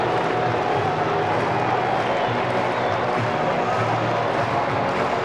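A stadium crowd of about 30,000 at a 2001 AFL match between West Coast and Melbourne roars in a steady, dense wash of cheering and clapping, loud and unbroken throughout.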